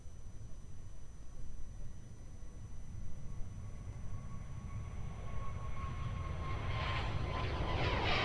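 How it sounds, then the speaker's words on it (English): A Qatar Airways Boeing 777-300 rolls at Melbourne Airport, a faint low engine rumble that grows louder toward the end. "There we go, Qatar rolling here, 777-300, making the trip back to Doha."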